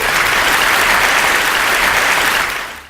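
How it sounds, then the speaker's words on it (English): A crowd applauds loudly, a dense wash of clapping that holds steady and then fades out toward the end. "let's give them a big round of applause"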